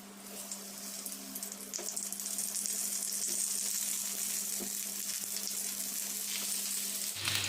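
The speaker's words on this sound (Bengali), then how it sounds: "এবার একটা একটা করে পটল ছেড়ে দেবো।" Stuffed pointed gourds are placed one by one into hot mustard oil and fry with a continuous, close sizzle that swells slightly as the pan heats, with faint clicks and no voices.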